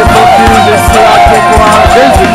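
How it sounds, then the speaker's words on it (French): A church congregation acclaims Jesus together with loud cheering and whooping voices, a dense crowd roar carried over a steady rhythmic beat. "Pour l'acclamation à Jésus de Nazareth."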